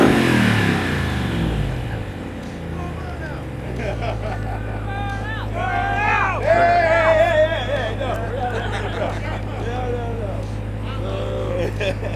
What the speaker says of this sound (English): everyone here is shouting burnout, burnout